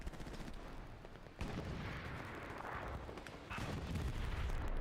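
Gunfire in the Hell Let Loose video game comes through quietly as rough bursts and booms, with a sharp report near the start and another a few seconds later over a constant low battle rumble.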